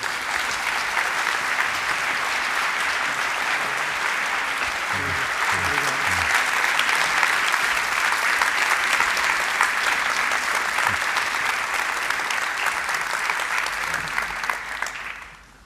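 Studio audience applauding steadily for about fifteen seconds as a guest, writer Valter Hugo Mãe, is welcomed onto a stage at a Porto talk event, dense and sustained before fading out at the end.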